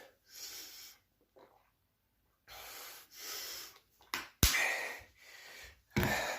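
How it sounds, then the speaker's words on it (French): Heavy, labored breaths after four sets of 20 exercise repetitions, several sharp gasping inhales and snorty exhales separated by short pauses, close up. "on est un peu essoufflé, c'est normal"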